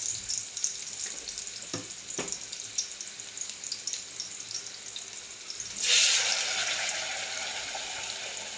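Ground masala paste fries in a pan for a Malvani halwa fish curry, a steady close sizzle with a couple of stirring knocks, then a brighter rushing hiss swells near the end and settles, with no talk.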